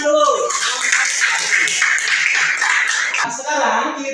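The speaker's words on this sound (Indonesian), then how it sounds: "Boleh tepuk tangan dulu." A class clapping after a group presentation, a steady, fairly close patter of many hands lasting several seconds with faint voices mixed in.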